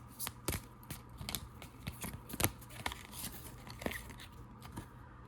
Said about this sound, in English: Shuffle these again for us.